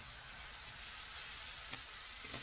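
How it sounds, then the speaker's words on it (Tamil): Ingredients for Tamil fish curry sautéing in hot oil in a pan, giving a steady, even sizzle throughout with a couple of faint clicks from stirring, and no talking. "ஒரு நிமிஷத்துக்கு வதங்கினா போதும்."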